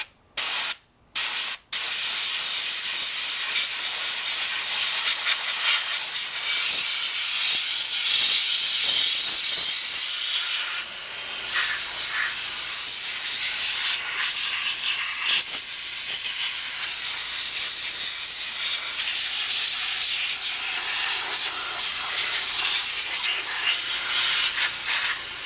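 A siphon sprayer hisses steadily as it blasts Simple Green degreaser onto a motorcycle engine, a loud continuous spray lasting over twenty seconds after a few short bursts at the start.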